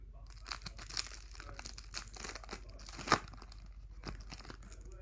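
Foil wrapper of a Match Attax 2018/19 football trading card pack being torn open by hand, with steady crinkling and crackling over five seconds and a sharper, louder rip near the three-second mark, close and clear with no talking.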